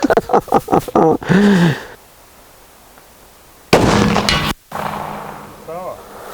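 Two sharp gunshots from a Derringer Unicorn pistol fired at a metal target 40 metres away, each a loud crack with a brief ringing tail, separated by a quiet pause; short bursts of talk come before the shots.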